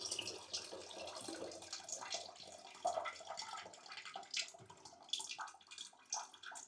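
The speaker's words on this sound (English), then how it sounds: "pull that valve up. And that's going to let the remaining water drain out of there." Leftover water draining out of a toilet tank through a lifted flush valve, a faint steady trickling and gurgling with small splashes, close and continuous, no voices.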